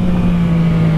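A motorcycle engine runs at a steady, strong drone with a constant low hum, loud and close, carrying a rider and a passenger along a road, with no voices over it.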